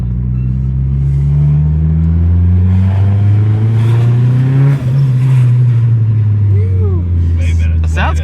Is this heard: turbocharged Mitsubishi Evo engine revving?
yes